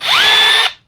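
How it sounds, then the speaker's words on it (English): A power drill pre-drilling a clamped shelf piece whines up quickly to speed, runs steadily for about half a second close by, then cuts off and spins down. "Pre-drill this one too."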